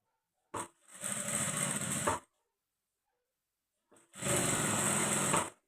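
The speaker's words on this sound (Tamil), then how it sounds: "இந்த மாதிரி மெதுவாக தையல் போடணும்." A sewing machine stitches a blouse slowly, running in two separate bursts of steady mechanical whirring, each about one and a half seconds long, with a quiet pause between them.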